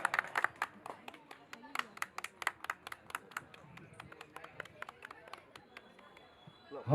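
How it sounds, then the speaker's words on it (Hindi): Scattered audience clapping at a wrestling dangal event in Udaipur, individual sharp claps in an uneven rhythm over a murmur of crowd noise, thinning toward the end. "एक बार तालियां बजाकर राजू बाबू का अभिनंदन"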